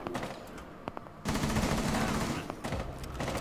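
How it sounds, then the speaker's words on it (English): Rapid automatic gunfire bursts out in a Rainbow Six Siege match, a sustained loud volley after scattered shots, with a player voice talking around it. "Oh god, we're getting shot from behind."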